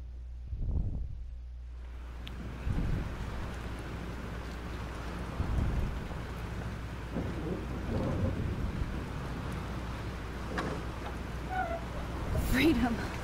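A thunderstorm with rain in the video game Life is Strange rumbles at a low, steady level, with soft rain hiss and occasional distant thunder rolls beneath faint background sounds.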